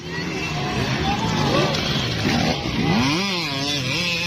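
A 85cc motorcycle ridden by a young rider revs hard, its engine note rising and falling in rapid sweeps beneath loud, excited talk and crowd babble.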